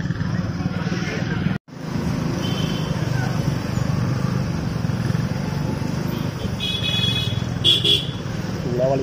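Congested Godowlia market street traffic in Varanasi, a constant dense rumble of engines and crowd noise with scattered horn toots, people talking throughout, and a brief dropout early on.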